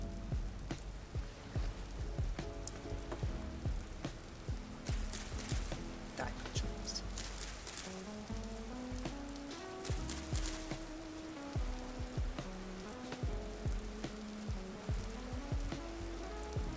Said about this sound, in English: One day it will stop raining at this house